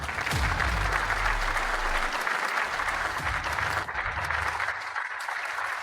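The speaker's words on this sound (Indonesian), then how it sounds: "mari kita berikan tepuk tangan meriah untuk menyambut ketiga juri ke tempat duduk mereka" An audience claps loudly and steadily to welcome three judges to their seats at the opening of a cooking competition, a dense, continuous wash of applause that runs throughout and eases slightly near the end.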